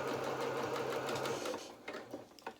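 A sewing machine stitching a felt doll's duffle coat, a quick close whirring run that stops, followed by a few light clicks and taps.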